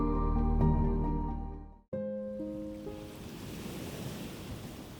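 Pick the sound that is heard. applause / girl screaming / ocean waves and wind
ocean waves and wind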